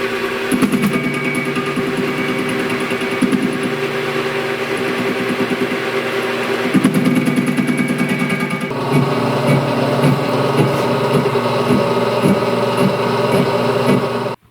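A metal lathe turning down a damaged snowblower impeller shaft to fit a bearing, a steady loud machine drone with a rhythmic mechanical chatter that shifts in tone partway through, running continuously without talk.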